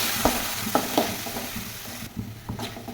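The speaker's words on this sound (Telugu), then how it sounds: "అవి వేగిన తర్వాత టమాటాలు పచ్చిమిర్చి ముక్కలు వేసి బాగా ఉడకనివ్వాలి" Tomatoes and green chillies frying in a kadai for street-style Maggi: a close, hissing sizzle broken by a few sharp spoon knocks and scrapes against the metal, no voices.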